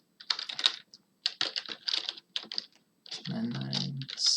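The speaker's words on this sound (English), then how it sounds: "So I'm going to type all of my numbers out in here." Close, crisp keystrokes tap out numbers on a computer keyboard in uneven bursts with brief pauses, followed by a denser run of clattering keys.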